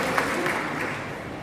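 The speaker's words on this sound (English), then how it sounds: "Why are you clapping?" A fan convention audience claps together in a panel hall, a brief dense burst of applause close to the microphone.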